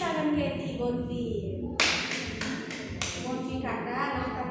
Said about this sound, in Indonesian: Tepuk tangan Keti Bonfi.